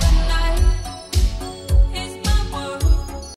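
An 80s pop song plays loud and full, with a thumping kick drum on a steady beat under bright layered synths and sustained tones, and no talking over it.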